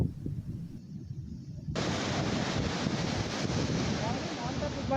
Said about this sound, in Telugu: ఉప్పాడ తీర ప్రాంతంలో బీచ్ రోడ్లు ఎక్కడికక్కడ అలలు ఎగిసిపడుతున్న పరిస్థితి మనం చూసుకోవచ్చు